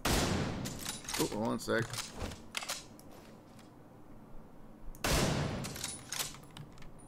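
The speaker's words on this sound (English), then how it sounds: "our signature weapon, the 50 caliber, we can use that as well and keep regenerating 50 caliber ammo" Shots from a .50 caliber signature weapon in The Division 2. Loud sharp reports burst at the start and again near five seconds, with someone briefly talking between them.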